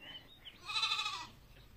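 Goats bleat near a goat shed behind a village house in summer, a single drawn-out nasal call rising to mid loudness and fading, with faint bleats before it and quiet outdoor ambience around it.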